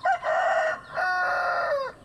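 A Belgian Shamo rooster gives one loud, close crow lasting about two seconds, with a short opening note before a long drawn-out call and no voices.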